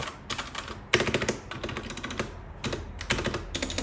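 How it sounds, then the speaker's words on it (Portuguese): Fast typing on a MageeGee 60% mechanical keyboard with red linear switches, a close, crisp clatter of keystrokes in quick bursts separated by brief pauses. "apesar de ser um teclado switch red que é linear, tem um som bem gostoso out of the box."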